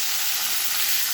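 Cauliflower florets frying in hot oil in a home kitchen, giving a steady, bright, continuous sizzle up close with no talk.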